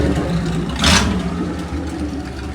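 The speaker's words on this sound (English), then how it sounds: "I wanna fire it up exactly how you see it, because I don't think it's gonna be that loud." Chevrolet Monza fitted with a 350 V8 runs at a steady idle close by, exhaust rumbling low and even, with one brief blip of higher hiss or rev about a second in before it settles back.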